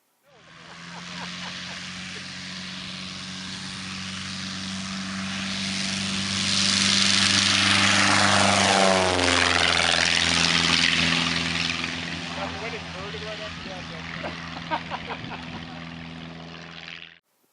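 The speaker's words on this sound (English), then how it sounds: "I believe he was flying an RV-7, wanted to see Mr. John Fury, and of course what was going on at FliteFest. Here's his takeoff." An RV-7 light propeller airplane takes off at FliteFest, its engine drone swelling loudly as it passes close by with a clear pitch drop, then fading away into the distance.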